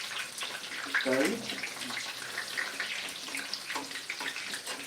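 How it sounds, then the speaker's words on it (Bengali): Spiced fish sizzling in hot oil in a home kitchen pan, a steady broadband hiss and crackle of frying running throughout, with a brief spoken word partway through. "গরম তেলের মধ্যে দিয়েছি"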